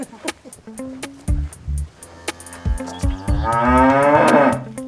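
Dairy cows moo loudly nearby on a farm, several long lowing calls, the last one rising and drawn out, with short bursts of talk between them.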